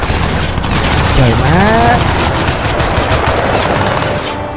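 Rifle gunfire in Crysis 2 Remastered, a loud continuous burst of shots and booming effects filling the clip, with a man exclaiming over it.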